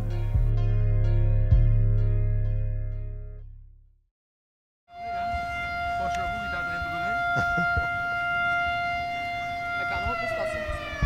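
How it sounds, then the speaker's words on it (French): A siren sounds to open a new 4 km stretch of cycle path in Sainte-Marie, starting as a loud held tone that fades into a brief silence, then returning as a steady wail with voices and crowd noise around it. "On vient d'entendre la sirène pour ouvrir le nouveau 4 km de la piste cyclable."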